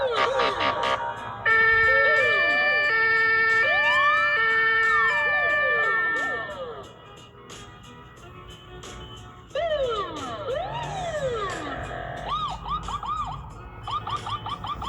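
A Hamburg police car siren blares loudly and close, cycling through rising-and-falling wails and quick yelping sweeps, dropping briefly before resuming.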